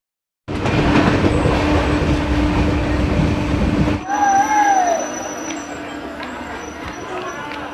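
A train pulling into platform 3 at Berhampore Court station: loud rumbling wheels and carriage noise that eases as it slows, followed by a thin wheel squeal and quieter station ambience.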